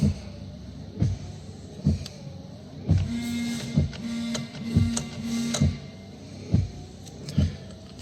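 Alfa Romeo 156 windscreen washer pump whirs and clunks in repeated short mechanical bursts, with a steady electric hum through the middle, close by and without voices.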